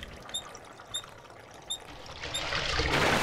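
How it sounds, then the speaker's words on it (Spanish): Maple syrup gushes from a fully opened tap in a cartoon, with a few bright chiming sparkles early on before a rushing, swelling pour builds loudly toward the end. "Solo abriré el grifo al máximo."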